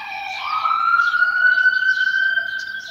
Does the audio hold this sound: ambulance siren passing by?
yes